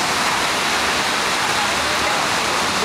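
Huge ocean waves in the Bahamas produce a steady, loud, broadband roar of rushing surf throughout, with no distinct breaks or other sounds standing out.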